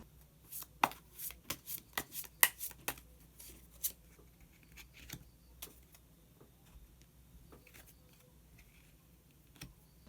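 Tarot cards are shuffled and a hidden card is drawn, giving a quick run of crisp, close card slaps and ticks early on. A few softer taps follow, then quiet handling with no talk.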